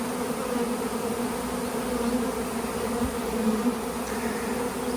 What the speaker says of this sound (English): we got two swarms in the tree already